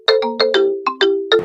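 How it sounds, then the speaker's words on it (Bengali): A mobile phone rings with a bright, melodic ringtone, a quick run of chiming notes played loud and close, with no talking over it. "বলতে না বলতে আম্মু ফোন দিছে"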